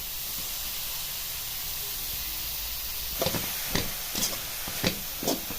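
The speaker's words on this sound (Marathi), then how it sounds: "गाजर असं परतून घ्यायचं एक दोन पाच मिनटं असं तुपावरती परतलं की गाजराचा जो कच्चटपणा आहे तो निघून जाईल" Grated carrots sauté in ghee for carrot halwa, with a faint steady hiss. Over the last few seconds a handful of soft stirring scrapes come through.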